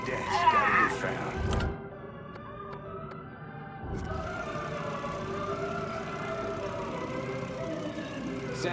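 Eerie, wavering tones from a voodoo doll in the Mafia III video game drift in a sustained, ghostly drone, with a brief hush partway through before the unsettling hum swells back under low game ambience.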